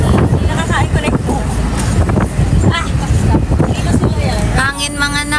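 Wind buffets the microphone in loud, rumbling gusts, with people talking over it.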